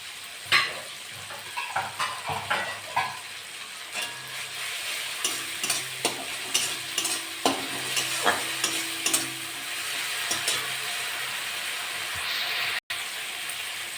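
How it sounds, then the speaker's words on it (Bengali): Tomato fries with ginger-garlic paste in a pan, a soft steady sizzle with a run of scraping stirs early on, fairly quiet and with no voices. "টমেটোটা একটু ভাজা ভাজা হয়ে গেছে আদা রসুন বাটা দিয়ে দেবো"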